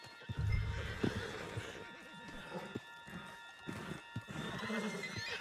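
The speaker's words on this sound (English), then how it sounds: "back of John's horse and let's get out of here." A horse neighs loudly up close amid galloping hoofbeats and a dense background of game ambience in Red Dead Redemption 2.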